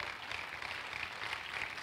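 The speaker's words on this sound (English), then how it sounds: "Clap your hands unto the Lord." Faint, steady applause comes from a church congregation at the Makarios Cathedral, an even wash of clapping heard from some distance.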